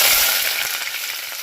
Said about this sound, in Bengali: তেল গরম হয়ে গেছে পেঁয়াজগুলোকে দিয়ে দিচ্ছি